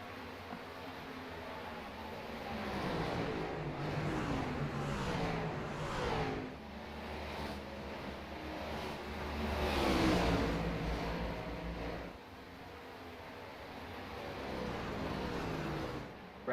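Race cars lapping Phoenix Raceway in a racing video game, a continuous droning engine roar that swells and fades as cars pass, with rising and falling revs over a steady background hiss and no clear talk.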